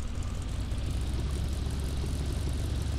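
A vehicle engine in the Farming Simulator 15 game runs with a steady, loud, low droning rumble that holds unbroken throughout, with no talking over it.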